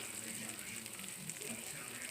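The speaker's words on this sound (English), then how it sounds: "Can y'all hear the sizzle?" A faint, steady crackling sizzle of homemade lasagna fresh from the oven, soft and close, with no talking.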